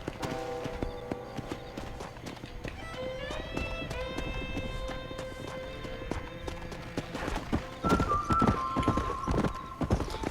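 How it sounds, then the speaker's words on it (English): A horse gallops in the video game Red Dead Redemption, rapid clip-clopping hooves running steadily throughout under sustained musical tones, growing louder near the end. "eu não olhei o tanto que eu tava correndo com o cavalo"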